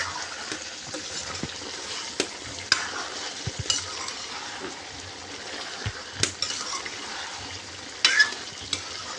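Duck meat sizzles steadily in a hot pan while a utensil stirs it, with scattered scraping and clinking knocks against the metal over a continuous frying hiss. No one speaks.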